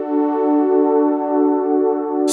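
A sustained, steady chord washes through a Walrus Slöer stereo reverb pedal without modulation, a smooth unwavering ambient tail held for a couple of seconds with no talking.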